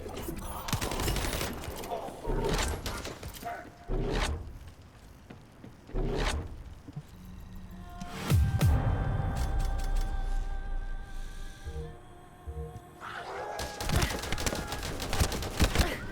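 Gunfire in The First Descendant: loud bursts of automatic fire come in several waves, broken by short gaps, with sharp impacts and game effects between them.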